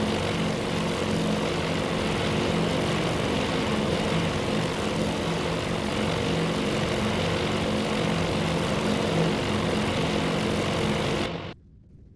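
A steady, loud drone of dive bomber propeller engines from the carrier battle game Task Force Admiral runs unbroken for about eleven seconds, then cuts off abruptly into quiet.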